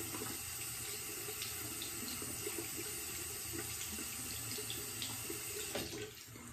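A Razor Rock Beehive shaving brush being wetted under a running tap, a steady close hiss and splash of water flowing into a sink that drops off near the end.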